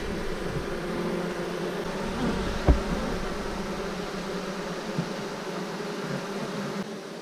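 Honey bees buzz around a small hive box during a colony rescue, a dense steady drone close by with one brief knock partway through.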